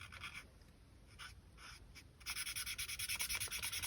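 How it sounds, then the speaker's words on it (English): A marker drawing a puppy nose on paper for a paper puppy hand puppet craft, with short scratchy strokes that give way to a steady run of quick, rhythmic scribbling, close and fairly quiet. "I am going to draw on a puppy nose with my marker"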